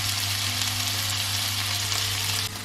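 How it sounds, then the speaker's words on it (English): Meat frying in a pan for a casserole, a loud, close, continuous sizzle with a steady low hum underneath. "So I'm now cooking the meat"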